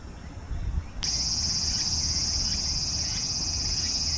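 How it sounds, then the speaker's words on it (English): A loud, steady high-pitched buzz of cicadas in nearby trees switches on abruptly and drones continuously over faint outdoor background, in Nagasaki. "I've been hearing that ever since I came here in the trees. I think they're cicadas."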